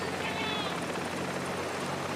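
A helicopter hovers in the sky above riders at a professional cycling race in Italy, its steady rotor drone continuous and fairly loud throughout, with broadband wind-like noise filling the whole stretch.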